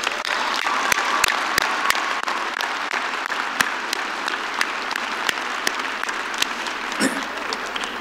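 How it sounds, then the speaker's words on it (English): Sustained applause fills a commencement ceremony hall after diplomas are handed out. The dense, even wash of many hands clapping holds steady throughout, with a few sharper individual claps standing out near the front. "Let's have a round of applause,"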